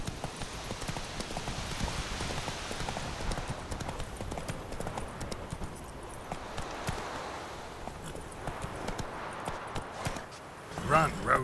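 Roach the horse gallops in The Witcher 3, drumming steady, rapid hoofbeats close by under continuous game ambience, while a voice speaks over the running.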